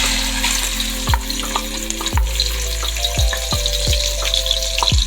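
Chopped onions tipped into half a cup of hot oil in a large pot, a steady loud sizzle of frying with several sharp clinks and scrapes of a utensil against the metal rim, no voices.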